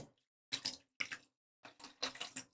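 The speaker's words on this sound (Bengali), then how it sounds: "দিয়ে দেব পানি।" Water is poured into a pan holding a halved chicken breast, in several separate splashing bursts broken by short silences, close and fairly quiet.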